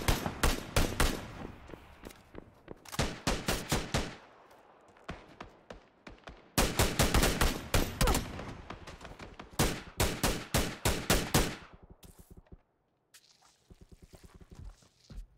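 Rapid bursts of automatic gunfire from a PUBG console league match, loud repeated volleys separated by short pauses, with quieter footsteps and a fainter exchange toward the end.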